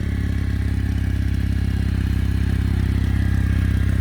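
A 2019 Kawasaki W800 Cafe idles through its chrome stock exhaust, giving a steady, close, low-pitched parallel-twin throb with an even pulsing rhythm and no other sounds.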